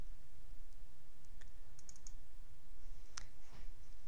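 A few light mouse clicks on a software button in Microsoft Access 2007, brief and close, spaced over a steady low hum with no talk.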